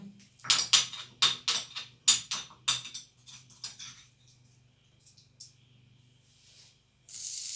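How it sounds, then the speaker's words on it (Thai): Chili and garlic pounded in a mortar: a run of about a dozen sharp, rhythmic thuds close up, fading to lighter taps before a brief hiss at the end, with no talk. "โขลกพริกกันนะจ๊ะพริกกระเทียม"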